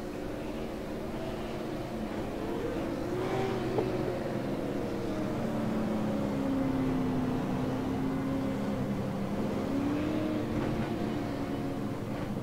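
Stock cars roll off in Fascar sim racing at South Boston, a game engine drone with a low, steady hum whose pitch rises and falls gently as the field moves, heard alone.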